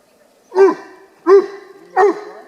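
A large 140-pound dog barks three times at an outdoor mountain campsite in Virginia, deep single woofs evenly spaced about two-thirds of a second apart, close and loud with no talk.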